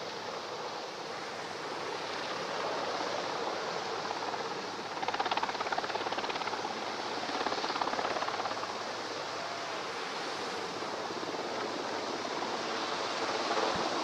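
Helicopter hovering over a naval display at Navy Day celebrations in Visakhapatnam while Marine commandos are extracted hanging beneath it, a steady broad rushing roar with rotor wash, loud and unbroken throughout.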